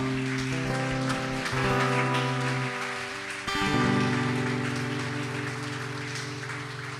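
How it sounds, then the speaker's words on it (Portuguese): A church congregation at a celebration service applauds in a dense, steady wash of clapping that runs the whole time, over sustained keyboard chords that shift partway through. "Você pode aplaudir o nome do Senhor."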